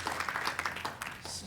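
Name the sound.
congregation applauding the worship team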